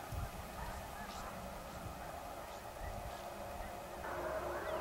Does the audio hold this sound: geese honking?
yes